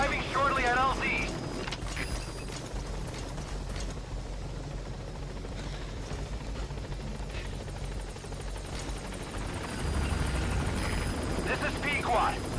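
Helicopter rotor and engine drone from the Pequod transport chopper approaching a landing zone in the video game Metal Gear Solid V, a steady loud whir throughout with game voice chatter and effects on top.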